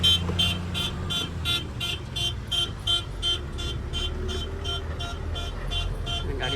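A truck rumbles at a coal mine while it pulls into position for loading, its reversing alarm beeping in a steady, even rhythm over the low, continuous engine drone.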